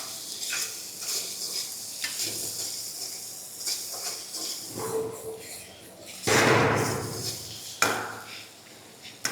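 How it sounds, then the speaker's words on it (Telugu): Small prawns fry in a pan seasoned with garam masala, giving a soft sizzle broken by stirring scrapes and a few utensil knocks against the pan, with a person talking over it. "ఇప్పుడు మళ్ళీ ఒకసారి మనం వేపుకుందాం."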